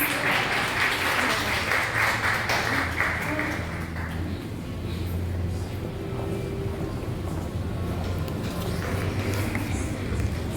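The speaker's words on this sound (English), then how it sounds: "I'd like to give one more round of applause to our resident staff, please." Applause from an audience at a graduation ceremony, a steady wash of clapping for the resident staff that holds across the whole stretch, fairly loud and dense, with no talk over it.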